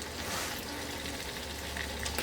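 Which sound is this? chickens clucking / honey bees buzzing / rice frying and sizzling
rice frying and sizzling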